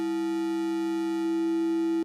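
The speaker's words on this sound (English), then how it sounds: "So can choosing a simpler modulating waveform, which will generate less sidebands, such as this sine wave modulator." A sustained Omnisphere FM synthesizer tone with a sine wave modulator, a clean steady pitch with a stack of even overtones, holding for about two seconds before cutting off abruptly.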